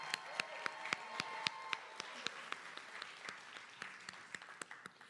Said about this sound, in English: Let's give another big round of applause for all of the 21-22 City Year Philadelphia Corps.